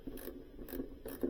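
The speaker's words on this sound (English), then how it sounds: "I'm going to use a 1/4-inch ratchet." A 1/4-inch ratchet loosening screws on a Northland NM13A module, giving three short bursts of close, dry clicking pawl ratchets separated by brief pauses.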